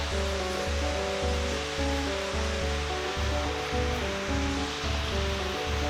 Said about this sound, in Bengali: এখান থেকে ঝর্ণাটা এসে এইখানে পড়ছে।